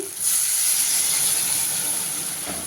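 Water poured into a hot pan of fried local chicken bursts into a loud, sharp steam hiss that starts suddenly and holds steady, easing only slightly as it continues.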